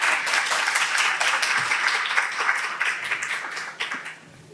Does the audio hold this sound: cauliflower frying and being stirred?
no